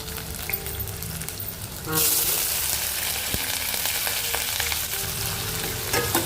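Dry red chilies and garlic sizzle and fry in about two spoons of hot oil in a pan for cabbage fry, a steady crackling hiss that gets louder and brighter partway through and continues with faint stirring clatter.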